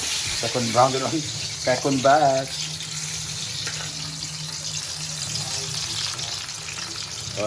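Banana (saging) slices deep-frying in a second batch for a party feast, a continuous close sizzle and bubbling with a few faint clinks, while someone speaks briefly at the start.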